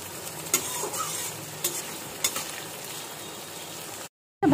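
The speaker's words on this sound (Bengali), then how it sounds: "আমি চিংড়ি মাছটাকে ভালো করে ভেজে তুলে নিব" Shrimp frying in hot oil, a steady crackling sizzle with a few sharp stirring clicks, close and even, cutting out abruptly near the end.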